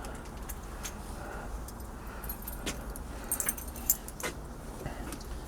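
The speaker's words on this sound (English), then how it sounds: "I gotta get the keys" A set of keys jingles faintly in a quiet room, with a few small metallic clinks and rattles scattered over several seconds against low background hum.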